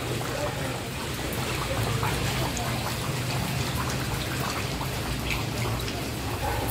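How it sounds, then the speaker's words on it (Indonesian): Steady rain falls during a flood in Makassar, a dense, even hiss of drops on surfaces and water, continuous and close throughout. "Ini untung hujannya udah agak reda nih."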